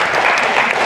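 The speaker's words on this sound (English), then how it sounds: "So let's give them a round of applause." Steady applause from an audience, dense and even clapping throughout with no pauses, fairly loud and close.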